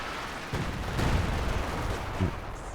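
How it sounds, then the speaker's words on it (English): Rifle grenade fired by Grenadiers in a wartime strategy video game, heard as a few muffled blasts and thumps amid a dense, moderately loud battle din. "Let's rifle grenade here as well from the Grenadiers."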